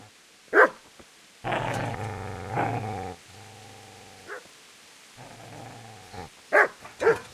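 A dog in the medieval video game Kingdom Come Deliverance growls and barks. Sharp, loud barks come in short bursts, mixed with low, sustained snarling growls, and there is no talk.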